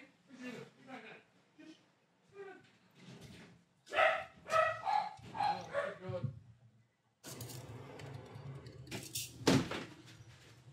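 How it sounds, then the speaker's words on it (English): Dogs bark in quick, excited bursts, several yaps overlapping, heard somewhat distantly with a door-like thump near the end. "you can hear the dogs going"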